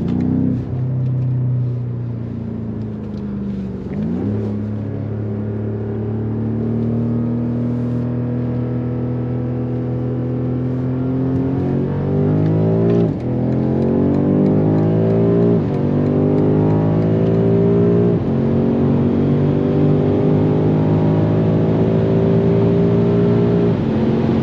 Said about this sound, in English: I will now turn around and then go full throttle again on the other side.